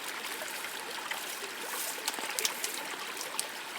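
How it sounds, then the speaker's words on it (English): Water rinses the screen of a mini high banker outdoors, a steady trickling, splashing flow with a few brighter splashes, close and continuous. "rinse my screen off real good"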